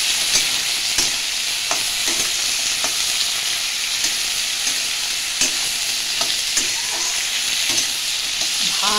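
Crab sizzles loudly while frying in a pan, a dense continuous crackle close by with periodic scraping clicks of stirring throughout.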